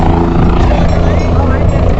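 A helicopter at Kedarnath in the Himalayan mountains, a loud, continuous rotor and engine roar very close by, with speech mixed in.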